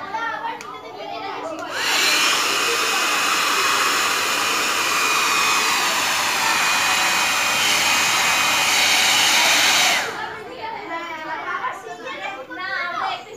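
A hair dryer switches on and blows with a loud, steady high-pitched whine for about eight seconds during a home haircut, then cuts off; people talk before and after it.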